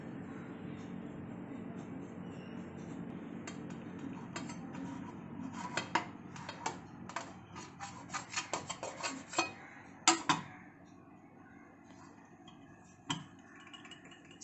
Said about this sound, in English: Now we will slice the cake into 2 layers.